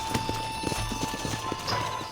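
Horse hooves clip-clopping in Red Dead Redemption as riders dismount near a ranch, a quick run of close, steady hoof thuds with a faint whinny-like tone over ambient noise.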